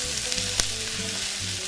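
Four garlic cloves sizzle in hot oil as they are stirred for sausage and peppers, a close continuous crackle with a single sharp utensil tap partway through.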